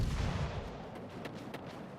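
Naval artillery fire in the World of Warships: Legends naval combat game, heard as a low rumbling boom at the start that fades, followed by a few fainter distant shot cracks, with no talking.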